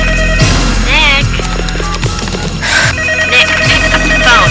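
A telephone bell rings in short bursts within a film soundtrack, the rings rising loud over music and background sound rather than standing alone.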